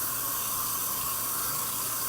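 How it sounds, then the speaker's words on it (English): Tap water runs steadily over vegetables being rinsed, a continuous soft hiss and splash with no voices. "So what I like to do is always rinse my vegetables"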